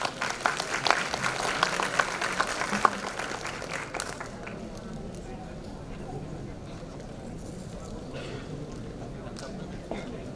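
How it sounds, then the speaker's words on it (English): An audience applauds to welcome a speaker at a costing session, clapping briskly for about four seconds before fading into quiet room murmur and faint voices. "Please welcome with a big round of applause"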